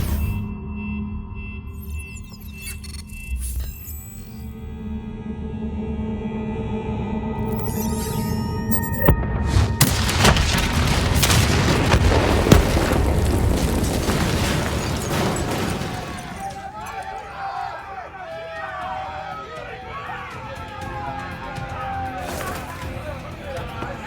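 Explosions go off after a detonation in the video game Call of Duty Black Ops 3. Mechanical tones and music give way to a loud, sustained roar of blasts and debris lasting several seconds, then fade into scattered crackling and voices.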